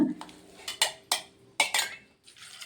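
Soaked sabudana is moved into another vessel with a handful of sharp metallic clanks and scrapes of a spoon against the pots, close and fairly loud, spaced irregularly with short quiet gaps between them.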